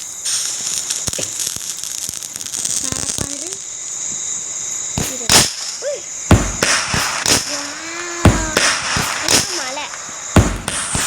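A July Rain Diwali firework goes off in a series of sharp crackling bursts and pops, some with whistling tails, spread irregularly over the clip and loud against a quieter hum of background voices.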